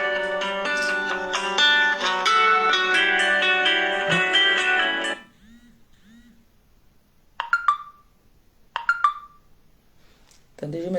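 A mobile phone rings loudly with a bright, repeating electronic ringtone for about five seconds, then cuts off, followed by a few short beep-like tones.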